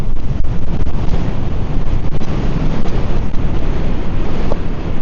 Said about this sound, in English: Oh, blimey, that is windy.